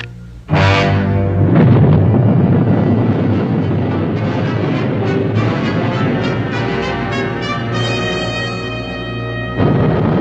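Cloud seeding rockets fire ahead of a hurricane with a sudden loud whooshing roar that continues as a dense, rumbling rush throughout and swells again at the end.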